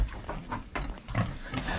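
Farm pigs eating feed in their pen make a series of close, low, throaty grunts and snuffles at an uneven rhythm, with faint rustling of feed between them.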